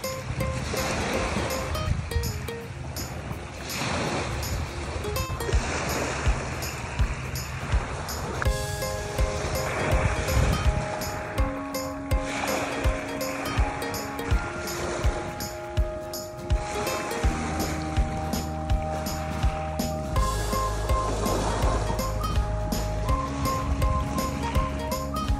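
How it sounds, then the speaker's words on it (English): Beach surf washes in continuously, loud and close with broad rushing noise and repeated swells, mixed with some tonal background sound and no clear talk. "Number Five and I are going to the beach."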